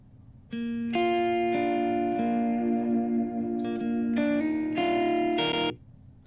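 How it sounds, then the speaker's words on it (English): Clean electric guitar with a space-echo-style delay, sustained chords and single notes ringing on with repeating echoes, played alone at steady moderate volume in a modern country mix. "That delay that just sounds like a space echo."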